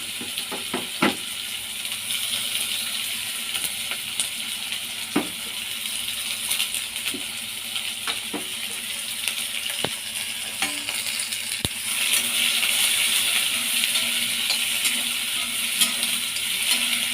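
Onions, green chillies and curry leaves sizzle steadily in hot oil after mustard seeds have popped, a continuous frying hiss with scattered pops and light clinks, rising slightly louder toward the end.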